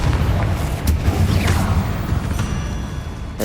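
A Confringo fire spell explodes in the video game Hogwarts Legacy, a booming blast with rumbling low end and a whooshing burst, loud and up close.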